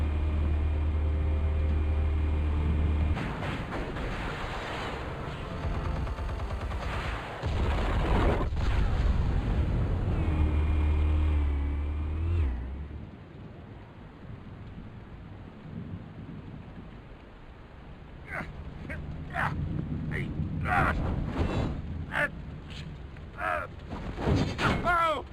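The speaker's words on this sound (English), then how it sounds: "Explosives armed. Fire when ready." Explosives and gunfire from Batman: The Telltale Series: heavy booming blasts and rumbling detonations crowd the first half, then quieter stretches broken by sharp repeated gunshot cracks near the end.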